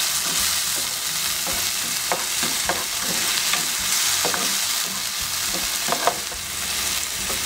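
Chopped tomato, onion and green chile sizzle steadily in a hot pan as a utensil stirs them, with scattered scraping clicks over a constant loud frying hiss.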